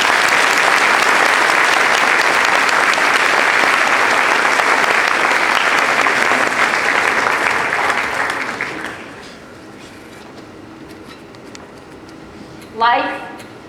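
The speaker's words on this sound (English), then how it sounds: "How about a big round of applause?" An audience gives loud, sustained applause for a speaker being introduced, the clapping holding strong for about eight seconds before dying away, followed by a quiet pause and a brief voice.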